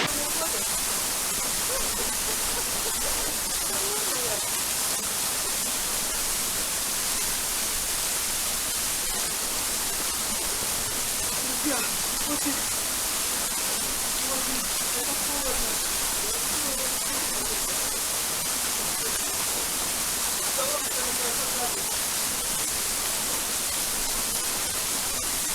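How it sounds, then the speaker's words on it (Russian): A waterfall on Crimea's Botkin trail produces a constant broadband rush of falling water, steady and unbroken throughout, with a faint voice occasionally audible beneath it. "Так не хочется идти в этот водопад, но давайте это сделаем, ребятки."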